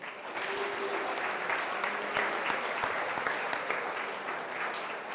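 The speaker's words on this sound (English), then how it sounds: "Clap it up for them." An audience at a CEO panel event claps steadily for several seconds, a dense, even patter of many hands heard from within the room, with no talk over it.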